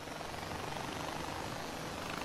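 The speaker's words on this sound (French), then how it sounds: "Vu qu'on a un petit hélicoptère, mieux vaut en profiter." Helicopter in the Far Cry 4 video game, a faint steady rotor and engine whir with no talk over it.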